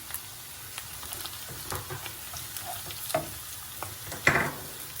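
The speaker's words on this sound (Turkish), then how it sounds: "soğan da kavrulduktan sonra salçayla da kavuracağım bir miktar" Onions sautéing with tomato paste, salt, black pepper, chili flakes and basil in a pan make a quiet sizzle under repeated spoon taps and scrapes, ending in a louder clatter; no one talks.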